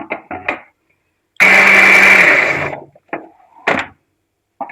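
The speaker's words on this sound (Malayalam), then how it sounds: "ഇത് നമ്മൾ മിക്സിക്കകത്തിട്ട് ചെറുതായിട്ടൊന്ന് അടിച്ചെടുക്കണം" A kitchen mixer grinder whirs loudly in one burst of about a second and a half while it blends custard into milk. Brief clatters and knocks from handling the jar come before and after.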